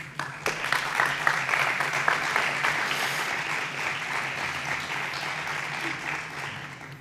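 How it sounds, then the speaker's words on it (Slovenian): A large conference audience breaks into sustained, dense applause that stays steady for several seconds before tapering slightly, with a hint of voices underneath. "In seveda velik aplavz."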